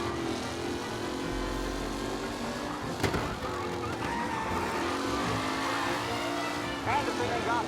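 Race cars roar through the final lap of a race in Mafia: Definitive Edition, a continuous loud engine drone with a sharp burst near the middle, heard beneath an announcer's ongoing commentary.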